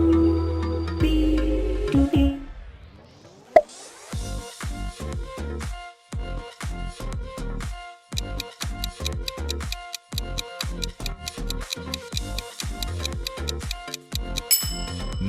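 Tubi streaming service logo sound: a loud electronic sting that opens with a brief sweeping rise, then breaks into fast, rhythmic ticking pulses and bright tones that continue to the end, with no voices.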